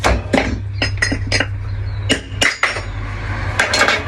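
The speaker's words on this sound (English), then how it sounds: "get your hammer and just one bearing" Sharp metallic clinks and knocks ring out in irregular bursts, close hammer strikes knocking bearings out of a wheel over a low steady hum.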